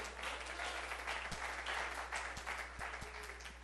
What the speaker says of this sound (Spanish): Denle fuerte ese aplauso a Cristo